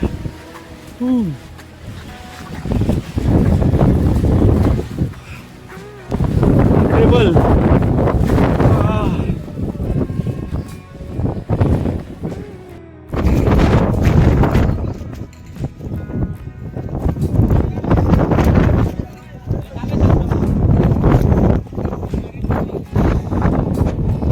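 Strong wind on a Sahyadri mountaintop near a temple buffets the microphone in loud, roaring gusts that come and go, with a voice speaking now and then beneath the rumble.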